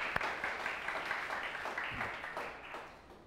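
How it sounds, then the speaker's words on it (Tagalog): A church congregation applauds for Jesus during a Filipino worship service, a steady, fairly quiet wash of many hands clapping throughout, with a few sharper claps standing out near the start. "The best pong palakpak ulit para kay Jesus."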